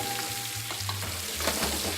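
Fish cooked on the bone sizzles and spits steadily in a hot pan, a soft continuous frying hiss with small pops and crackles, no talking.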